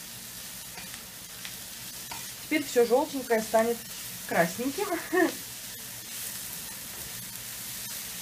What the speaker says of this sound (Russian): Еще на минутку мы оставляем жариться